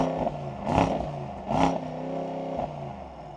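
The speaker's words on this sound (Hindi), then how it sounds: "क्वाड एग्जॉस्ट सिस्टम जो कुछ ऐसा साउंड करता है" The quad exhaust of a Mercedes-AMG S63 revs in neutral, giving two sharp, deep blips in quick succession over a burbling idle, then a smaller lift of the throttle.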